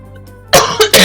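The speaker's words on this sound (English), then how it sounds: "Oh, I coughed in my hand instead of my elbow." Three sharp coughs, close and loud, the first after a stretch of near quiet and the next two in quick succession, from a person who coughed into a hand; no talking.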